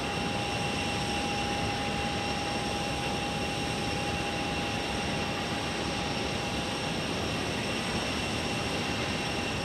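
An Embraer E175 jet at Phoenix Sky Harbor Airport gives a steady, distant broadband roar with a faint high whine, continuous and unbroken with no voices.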